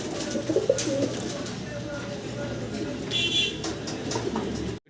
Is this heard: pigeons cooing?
yes